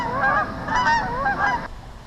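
Geese honk at a park pond in New Jersey on a cold day, several loud, close, rapid honks in a short burst, a couple of birds overlapping, then stopping.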